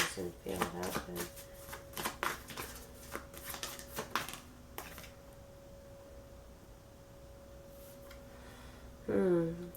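Tarot cards shuffled in a rapid burst of crisp riffling flutters over the first few seconds, then quieter handling, with a steady background tone and a brief voice near the end.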